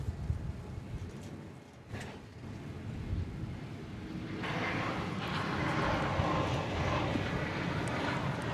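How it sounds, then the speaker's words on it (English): Air France airliner taxiing at DFW Airport, a low, fairly faint engine rumble that builds into a steadier, broader roar in the second half, with no clear voices. "Air France taxiing now for its return trip to Paris"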